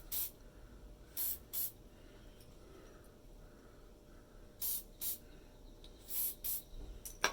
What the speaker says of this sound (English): Add some spray to them.